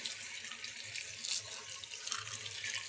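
Tap water runs into a cooking pot for fish sinigang, a steady splashing hiss that holds fairly quietly throughout with small surges, and no one speaks over it.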